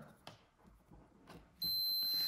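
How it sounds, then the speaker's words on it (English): After some faint rustling, an ohm meter's continuity tester gives a steady high-pitched electronic beep that starts suddenly and holds on, loud and continuous, on a 1964–66 Ford Thunderbird limit switch circuit. "the beeping means, and the indicator means that it's making contact, the circuit is closed"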